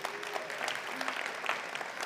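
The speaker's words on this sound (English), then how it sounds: "A round of applause because they are our 2022 Partner of the Year." An audience at a school district's state of the district address claps in a dense, steady round of applause, sustained and moderately loud throughout.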